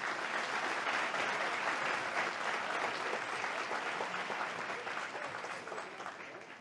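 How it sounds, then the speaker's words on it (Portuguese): An audience applauds at the close of a lecture-seminar on ethics, a dense, sustained burst of clapping from a full room that holds steady and then gradually fades toward the end. "palmas para eles"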